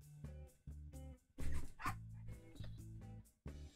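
A cute-sounding dog barks repeatedly in the background of a game stream, a series of short, clear woofs and yips in irregular bursts, fairly faint and with no talk over them.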